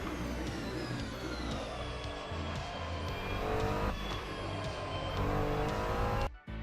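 Ferrari 296 GT3 race car engine in Assetto Corsa at Spa-Francorchamps, a steady high-pitched roar with rising gear-held revs and a brief upshift, cutting off sharply near the end.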